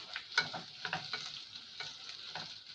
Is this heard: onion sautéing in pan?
yes